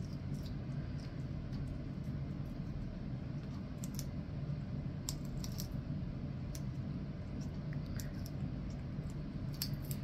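A parrot named Louis tears apart broccoli with scattered crisp snaps and clicks over a constant low rumble of background noise, the ripping bits quiet and irregular throughout.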